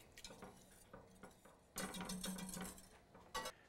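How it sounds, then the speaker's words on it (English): A whisk scrapes and clinks against a pot while blending a chili spice mix of sugar, chili powder, garlic powder and kosher salt, with close, quiet bursts of stirring, then a louder, busier stretch and one final sharp rattle. "Just get this whisked up here."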